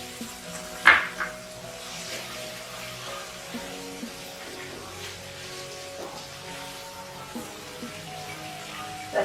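Chopped tomatoes sautéing in a pan for Goan prawn vindaloo, a soft continuous sizzle with light stirring clinks and an occasional sharper scrape, fairly quiet.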